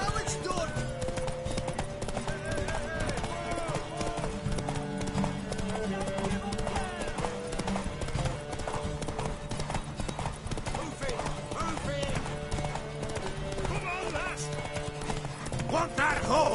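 Video game horse hooves clip-clopping in steady rhythm alongside occasional neighs, set under continuous music and game voices speaking throughout.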